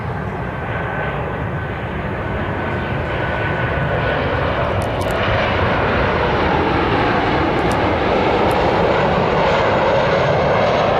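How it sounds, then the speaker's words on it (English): Airplanes pass low overhead at an outdoor protest camp in Las Vegas, a loud, continuous engine roar that fills the whole stretch with no talking. "They weren't kidding. Those planes are going right overhead."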